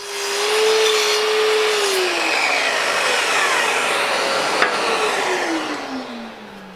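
A power saw cuts wooden planter legs to length, a loud close whine that holds steady and then drops in pitch as the blade bites through the wood.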